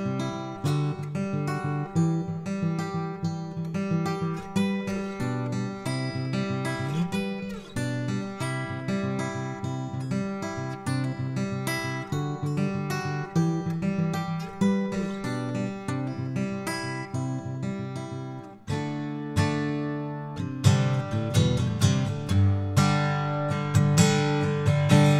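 Acoustic guitar picked and strummed steadily through a Berlin K86 microphone on an Antelope Audio Verge, full and close with ringing harmonics, a brief pause near the end before fuller chords resume.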